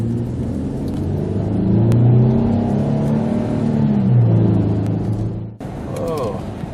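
A 2001 Nissan QX4 with a 3.5L engine revs hard under load while driven, its loud engine note rising and falling steadily for several seconds before cutting off abruptly.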